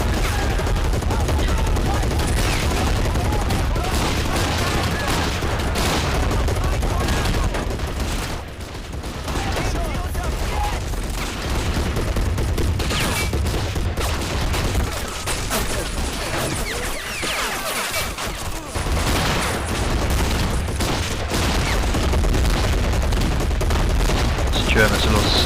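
Continuous combat gunfire from the strategy game Men of War in a Soviet bridge assault, with steady rifle and machine-gun fusillades and distant booms layered into a dense, unbroken battle roar, a brief lull midway.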